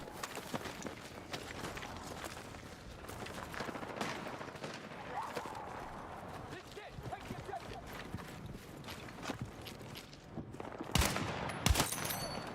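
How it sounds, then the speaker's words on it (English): Slow, spaced shots from an SVK designated marksman rifle in the Battlefield 6 battle royale, cracking among dense in-game action and background noise, with a louder cluster of shots near the end. "That is a very slow firing DMR."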